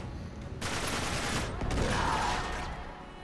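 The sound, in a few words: gunfire in the video game Uncharted 3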